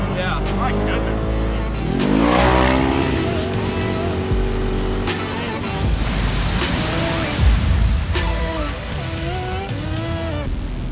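A brand new Can-Am Maverick R UTV drives and revs at a Coos Bay dune event, its engine droning loudly and rising and falling in pitch, with other machines nearby and a voice talking over it.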